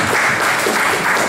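Audience applause at a lawyers' conference, a loud, continuous wash of clapping filling a short moment with no distinct voices.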